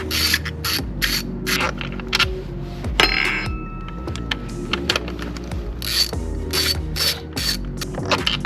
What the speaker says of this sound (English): We'll move back to this side and we'll fully remove these bolts now.